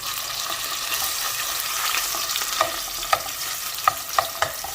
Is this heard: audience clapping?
no